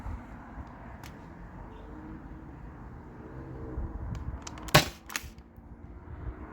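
A modified T4E HDB68 gas-powered pistol firing aluminum balls, heard as a single sharp crack that stands out against a low background hum, with a few faint clicks around it.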